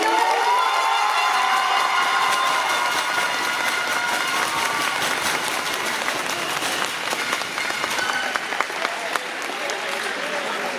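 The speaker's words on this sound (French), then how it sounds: "On applaudit, on applaudit." An audience applauds and cheers loudly, a thick wall of clapping with shouts and whistles at first, settling into steady claps.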